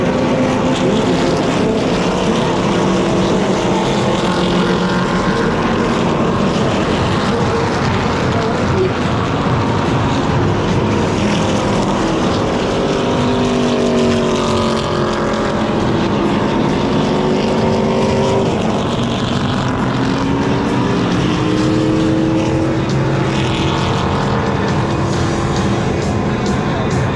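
Race cars thundering past on the final lap at Daytona, a loud sustained roar of many engines rising and shifting in pitch as the field sweeps by, with commentary faintly underneath.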